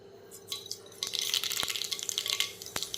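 Mustard seeds splutter and pop in hot oil in a pan, a dense crackle of quick sharp pops with a few louder snaps, close and alone.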